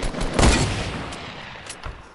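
A single loud gunshot in an online shooter game, with a broad burst near the start decaying into a reverberant tail, followed by a couple of fainter impacts toward the end.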